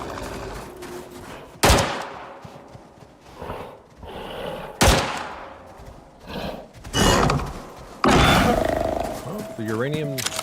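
Bursts of gunfire from uranium rounds in the Icarus survival game, several sharp loud volleys spaced a few seconds apart, mixed with roaring creature sounds and other game noise.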